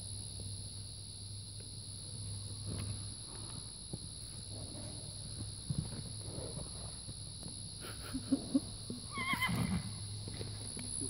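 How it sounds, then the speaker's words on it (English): A horse whinnies briefly near the end, over a steady background hum, with a few soft hoof or movement sounds earlier. "hey, there's more horses"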